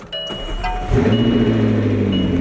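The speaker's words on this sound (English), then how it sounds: "It's actually nice to start up a supercar and not get your ears blasted for once today." A McLaren supercar engine starts up: a brief mechanical whir and chime-like tones, then the engine catches and settles into a fairly mild, steady idle close by, with no talking.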